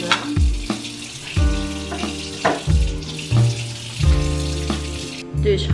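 Water runs steadily from a tap into a sink while hands are rinsed beneath it, with splashes and rises in the flow as the hands move through the stream, close up.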